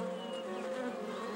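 Honeybees buzzing around flowering blossoms, a steady, continuous insect drone close to the microphone, with wingbeat hum holding level throughout and no speech.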